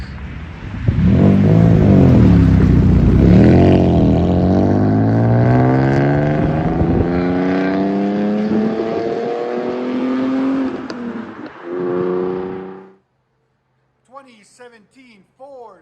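2017 Ford Mustang with a 3.7L V6 and a loud exhaust revving hard, a deep roar climbing and falling in pitch over several seconds before cutting off, with brief talk after.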